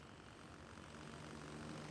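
Helicopter rotor and engine drone in the Gray Zone Warfare video game, a steady low-pitched throbbing wash held at an even level throughout, heard without any talking.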